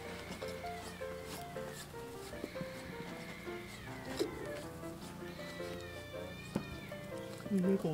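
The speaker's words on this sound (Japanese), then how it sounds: "猫が喧嘩して" Cats fighting, yowling and caterwauling in drawn-out, wavering cries, moderately distant, over a steady background hum.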